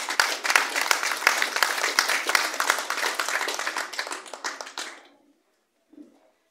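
An audience at a community book event in Veracruz claps for a child, a dense burst of applause that thins out and stops after about five seconds, followed by near silence.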